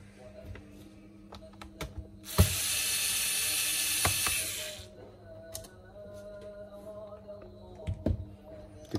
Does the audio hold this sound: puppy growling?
no